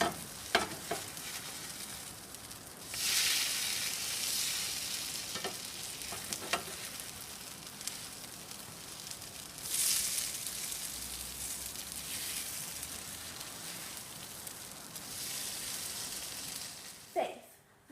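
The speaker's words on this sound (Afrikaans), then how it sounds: "Kook al 2 kante tot heuningbruin." French toast fries in a pan, a steady crackling sizzle with louder bursts as slices are added or turned and occasional scraping of a utensil, heard fairly close with a voice speaking at times.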